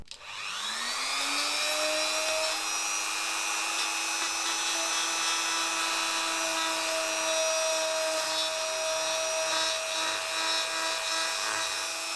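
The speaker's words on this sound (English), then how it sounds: "I've decided to make a little indent for the stem. I'm using this little tool called Dremel." A Dremel rotary tool whirs up to speed and holds a steady, high-pitched whine while cutting a small stem indent into an apple sculpture made from kitchen towel and aluminium, close and continuous throughout.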